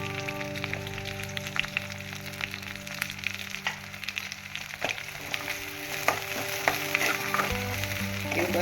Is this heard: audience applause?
no